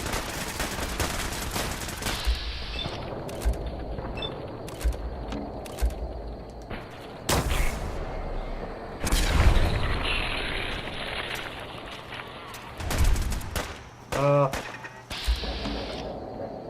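Automatic turrets in a video game fire bursts of rapid gunfire, with sharp volleys and mechanical clatter coming and going over a steady game background; a short rising electronic tone sounds near the end.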